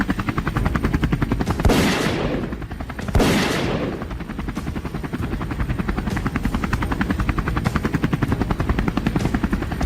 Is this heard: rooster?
no